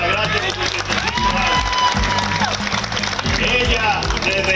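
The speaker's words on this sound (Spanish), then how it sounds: "Un aplauso para doña Altagracia" A crowd applauds and cheers for 105-year-old Doña Altagracia at a government pension event, loud continuous clapping and shouting with music and voices mixed in.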